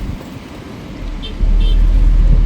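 A new Maruti Suzuki car pulls away after its first start, a low engine rumble rising and becoming louder and steadier partway through, with faint background noise.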